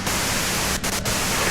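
Steady hiss of radio static from the Disco Elysium video game, loud and continuous across the whole stretch, broken by two very brief dips in the noise.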